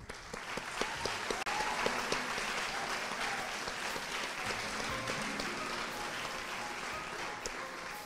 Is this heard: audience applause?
yes